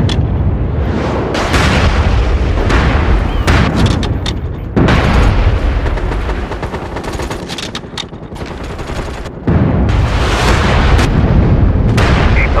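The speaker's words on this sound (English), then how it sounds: "Mortars back in operation." Mortar and artillery fire in the PS3 online shooter MAG, loud sustained bursts of gunfire and booming impacts in dense overlapping volleys, broken by short lulls.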